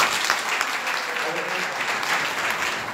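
Audience clapping together at a Bhagwat katha religious gathering in Baraut, a dense, steady patter of many hands filling a few seconds close by.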